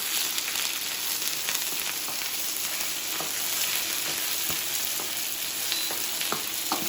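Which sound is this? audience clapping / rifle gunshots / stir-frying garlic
stir-frying garlic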